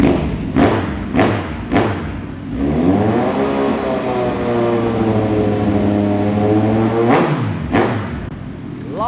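A 2016 Kawasaki Z1000 motorcycle engine with an aftermarket carbon-tipped slip-on exhaust, heard close and loud: three sharp throttle blips, then a steady rumbling idle, then two more quick revs near the end.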